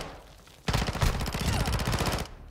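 Rapid automatic gunfire from Call of Duty: Modern Warfare II, likely an Expedite 12 shotgun setup, starting abruptly after a quiet moment and continuing in a loud, steady stream of close shots for about two seconds.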